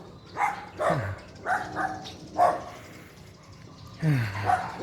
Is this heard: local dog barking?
yes